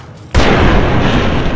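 A single loud gunshot-like blast in the video game Fallout: New Vegas hits suddenly after a brief quiet, followed by a long dense rumbling roar that fills the rest.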